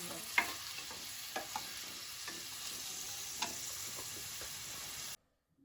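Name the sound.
tomatoes and browned onions frying and stirred in pan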